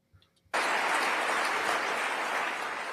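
A crowd at a live event erupts suddenly after a near-silent moment into a loud, sustained roar of noise that holds steady, with clapping and voices blended into one wash.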